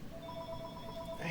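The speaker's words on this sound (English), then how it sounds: "the phone's going off" A telephone rings faintly in the background as tonal trilling, partly masked while someone talks over it.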